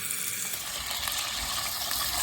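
Potatoes for dum aloo shallow fry in oil in a pressure cooker, giving a steady, dense hiss and crackle throughout, close and even in level, with no voices.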